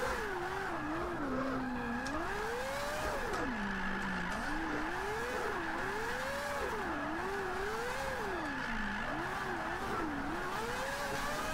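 A Mazda MX5 with a four-rotor engine drifts in Forza 5, its engine note rising and falling in steady waves as the revs swing, with tire squeal and continuous road noise and no talking.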